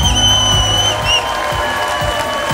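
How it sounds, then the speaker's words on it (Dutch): Loud crowd applause and cheering for two fighters after a four-round ringside bout in Beverwijk, a dense continuous roar of clapping with whoops over a steady tone. "Dames en heren, geef deze twee atleten even een keihard applaus."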